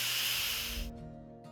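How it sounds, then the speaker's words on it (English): Steam hisses loudly out of the lid of a cooker holding lentil dahl, a steady, close rush that cuts off abruptly, leaving a faint hum and a brief second puff. "All right, the steam's let out"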